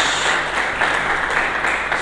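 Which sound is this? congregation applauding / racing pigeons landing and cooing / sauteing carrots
congregation applauding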